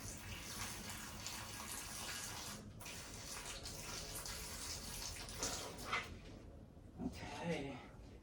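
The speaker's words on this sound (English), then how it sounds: "I'm also going to water this pole." Water poured onto a soil-filled moss pole supporting a Monstera Thai Constellation, a steady close trickle running for several seconds, with a few brief sounds near the end.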